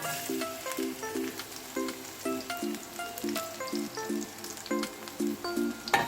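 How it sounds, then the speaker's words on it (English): Garlic sautéing in a pan for cabbage Manchurian gives a steady close sizzle for about six seconds, with background music playing over it. "We will saute the garlic."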